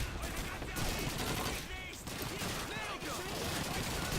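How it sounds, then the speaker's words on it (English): Heavy machine guns fire in rapid sustained bursts in a World War II shooter game, a dense crackling fusillade of near and distant gunfire, loud and continuous. "And there's the heavy machine guns that were introduced to United Offensive."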